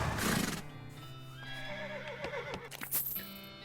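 A horse in the video game West of Loathing neighs with a loud, quavering whinny, accompanied by clip-clopping hooves and a short musical jingle, with no talking.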